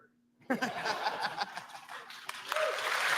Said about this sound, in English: why is everybody clapping for that?